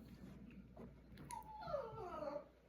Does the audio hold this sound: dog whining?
yes